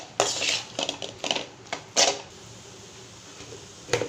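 A utensil clinks and scrapes in a pan as onions, chilli powder, fennel powder and turmeric are sautéed for poori potato masala: several sharp metallic knocks at irregular intervals, fairly quiet, with no talking.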